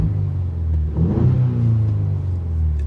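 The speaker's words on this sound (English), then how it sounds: "I'll just rev it up a couple times for you while I'm stopped" A Ford Bronco with a custom-fabricated exhaust revving while stopped, a deep steady rumble swelling into a louder rev around the middle and then settling back to a throaty idle, close and loud with no talking.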